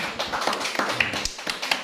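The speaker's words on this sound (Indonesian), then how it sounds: "tepuk tangan dulu buat si Tefon ini" Children clap in a classroom, a light scattered patter of small hands tapping irregularly at close range for a couple of seconds.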